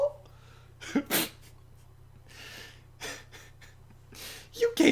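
A voice actor lets out several sharp, close sneezes with quick gasping inhales between them, loud bursts standing alone over a low steady hum.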